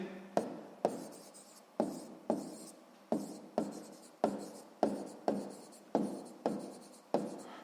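Handwriting on paper with a pen or pencil, a close series of about a dozen quick scratchy strokes at a steady rhythm, each one starting with a sharp tap and then fading.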